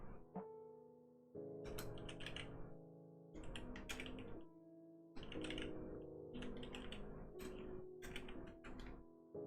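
Typing on a computer keyboard in bursts of rapid clicking separated by short pauses, close and fairly faint over a steady tonal background hum.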